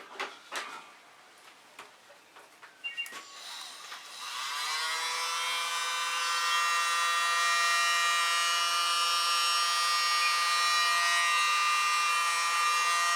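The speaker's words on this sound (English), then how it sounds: "I have a little blower around here." A small electric blower attachment drives paint across a fluid art pour. After a few seconds of quiet handling noises it switches on as a loud, steady motor whine with a bright buzzing tone that holds to the end.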